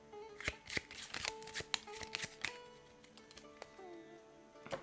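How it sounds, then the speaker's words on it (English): Wingspan board game cards being shuffled at close range, a series of crisp riffles and flicks that trail off into lighter taps, with faint background murmur. "Shuffle these. Turn that around."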